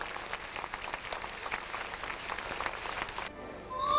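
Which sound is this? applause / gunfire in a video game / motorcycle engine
applause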